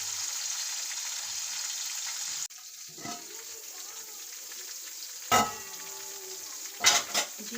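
Chopped tomatoes soften in oil in a pan for qeema matar pulao, giving a soft, steady frying sizzle, with a louder hiss at first, then quieter bubbling broken by a few brief stirring scrapes and clatters.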